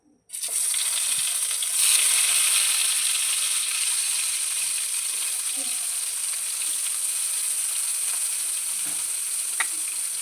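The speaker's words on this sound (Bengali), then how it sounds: "এরকমভাবে সবগুলো ভেজে নেবো।" Eggplant slices fry in hot oil in a pan, a steady bright sizzle running throughout with occasional soft clinks of a utensil, no voices.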